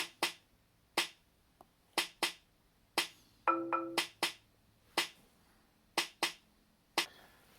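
Hand claps in a short rhythmic pattern for a school music lesson, sharp single and paired claps spaced across several beats, with a brief tonal ringing burst in the middle, fairly close and alone without talk.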